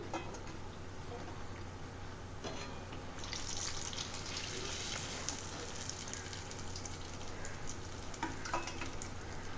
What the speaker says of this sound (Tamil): இது மாதிரி மீதி இருக்கிறதையும் ஃப்ரை பண்ணி எடுத்து வச்சுக்கிறேன்